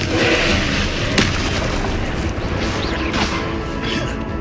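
Confringo fire-blast spell explosions in the Hogwarts Legacy video game, a dense, continuous barrage of booms and crashes with a sharp blast near the middle over steady battle noise.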